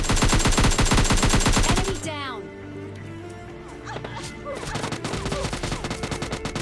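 Rapid bursts of automatic gunfire from teammates' covering fire in the PUBG Mobile Lite video game, loud and dense, pause briefly and then resume as sustained rattling fire under game effects.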